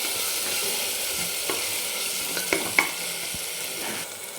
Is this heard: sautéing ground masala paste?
yes